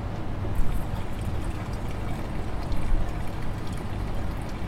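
Engine oil drains from a motorcycle engine in a steady, gurgling pour that splashes continuously, close and fairly loud, with no talk.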